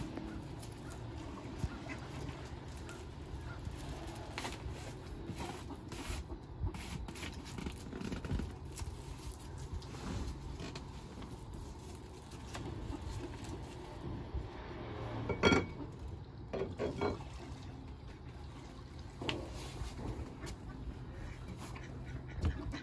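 A crowd of ducks quacks and squabbles over scattered Cheerios nearby, a continuous noisy chatter of overlapping calls with bursts of louder squawks and no clear speech.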